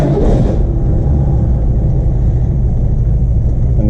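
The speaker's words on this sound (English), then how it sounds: "I'll just do a quick cold start here." A rare car's engine idling just after a cold start, a loud, close, steady low rumble that runs without a break under a brief higher hiss at the beginning, with no talking.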